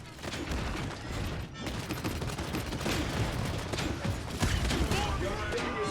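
Rapid weapon fire during a competitive Paladins match, a dense stream of shots and impacts blending with ability effects, loud and continuous for several seconds.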